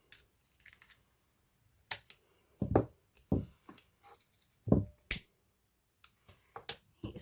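Scissors snip off excess ribbon on a flat boutique hair bow in a series of sharp, close clicks and cuts scattered irregularly among quiet pauses.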